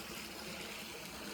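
Water with chlorine dissolved in it poured from a bucket into a swimming pool in front of the jets, a steady soft splashing trickle heard alone at low level.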